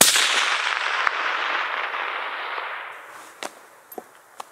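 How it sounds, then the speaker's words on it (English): A single loud rifle shot cracks out during long-range ballistic calibration, its blast rolling away in a long fading echo, followed by a few faint distant pops and clicks with no speech. "So that's several shots with the suggested solution, and I'm not even hitting the target."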